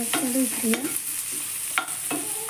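Chillies, onion and tomatoes frying in a pan with cumin and asafoetida, a steady close sizzle with a spoon scraping and stirring the pan several times, no talk.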